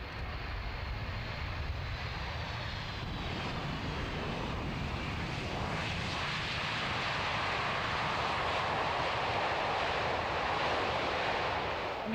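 A Boeing C-17 transport jet flies at the RIAT 2001 air show at RAF Cottesmore, a broad, steady jet roar that swells slightly over the stretch, heard from the ground without voices.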